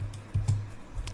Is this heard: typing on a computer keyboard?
yes